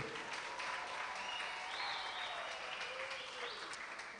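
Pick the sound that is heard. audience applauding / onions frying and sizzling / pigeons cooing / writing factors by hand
audience applauding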